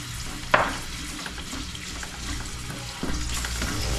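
Chopped tomatoes hit a pan of sautéed garlic and onion with a sharp sizzling burst, then settle into a steady close frying hiss with occasional stirring scrapes. No one speaks.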